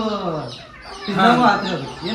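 Chickens cluck while scratching the ground for food at a mini zoo in Gokak, short clucking calls close by, mixed with a person talking over them.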